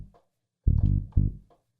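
A recreated bass line in the style of a well-known song plays as a few short, deep notes, with two strong punchy hits leading the phrase, close and clean with no talking.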